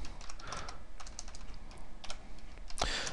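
Sloppy, uneven typing on a computer keyboard: irregular bursts of close key clicks with brief pauses, ending in a louder cluster of strokes.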